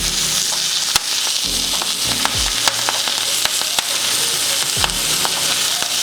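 Garlic clove and tarragon sizzle in melted butter in a pan for a steak, a steady close frying hiss with scattered sharp crackles and spoon clinks throughout, no voices.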